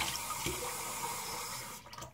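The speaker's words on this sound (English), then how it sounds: "I'm gonna go ahead and rinse off" Water runs from a tap into a sink as a face is rinsed after wet shaving. It is a steady, close splashing rush that changes slightly toward the end.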